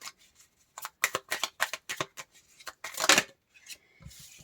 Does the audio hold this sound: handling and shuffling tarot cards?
yes